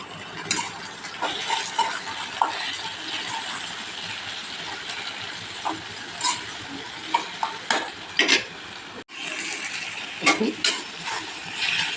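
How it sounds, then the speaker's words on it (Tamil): Diced potato and carrot sautéed with onion and green chili in a pan for vegetable kichadi, with a continuous frying hiss and repeated scraping stirs throughout, one brief gap near the end. "இந்த உருளைக்கிழங்கும் கேரட்டையும் வதக்கணும்"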